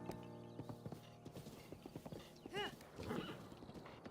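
A horse in Zelda: Breath of the Wild clip-clops with steady, quiet hoofbeats, then gives a short whinny and snort near the end, faint and alone.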